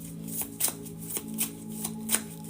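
Tarot cards being shuffled up close, several quick riffling bursts at a steady pace against a faint background hum.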